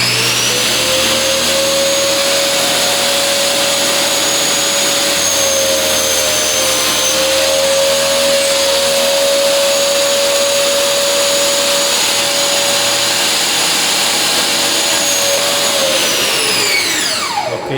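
An AKSI 2200 W table saw runs steadily for a long stretch with a loud, constant whining motor tone, then spins down at the end; no voices are heard.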